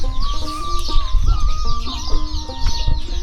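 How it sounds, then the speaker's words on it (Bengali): Chicks peeping and hens clucking in a remote riverside island village, steady high cheeping over lower clucks and scattered farmyard noise, fairly close and continuous. "দূর থেকে ভেসে আসছে মুরগির বাচ্চার শব্দ"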